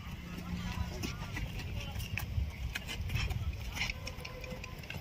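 A Marwari horse walks at a stallion market in Hyderabad, its hooves giving soft, irregular clip-clops under ongoing background chatter and crowd noise.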